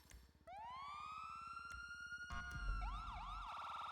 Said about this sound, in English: It's got sirens.